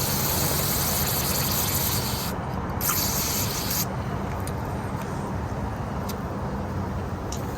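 Loud hissing spray from an aerosol cleaner can, close by, cleaning a 2010 Toyota Corolla mass air flow sensor, broken into a few long bursts with brief pauses between them.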